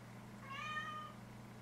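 A pet cat lets out a single short, rising meow, soft and fairly close, over a steady low electrical hum with no talking.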